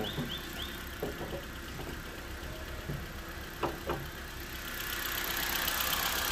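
A 2013 Kia Cerato engine idles steadily, a low, smooth hum heard close by, with faint ticking and a few light knocks, alone without speech.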